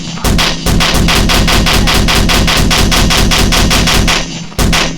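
A pencil bomb firecracker goes off in the Firecrackers 3D video game as a loud, rapid, evenly spaced string of bangs that runs for about four seconds, stops briefly, then starts again.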